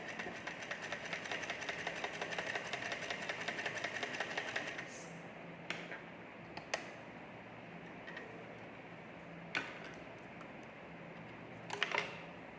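A sewing machine runs steadily while top stitching a seam on a finished garment, a dense mechanical whir for the first few seconds, then stops, leaving a quiet room with a few faint clicks.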